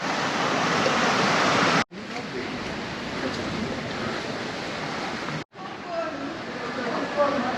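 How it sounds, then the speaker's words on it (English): Ocean waves crash up against a seaside restaurant on Sal, Cape Verde, making a loud, continuous roar of surf and spray, with two brief dropouts and voices mixed in. "you can see the waves are just like crashing up into the restaurant"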